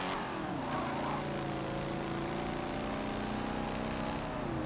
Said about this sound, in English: I mean, these are old-timey cars.